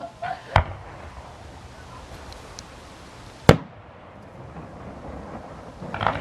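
Fireworks exploding at a country Christmas firework show: two sharp, loud booms a few seconds apart over a low outdoor rumble, with a faint third burst near the end.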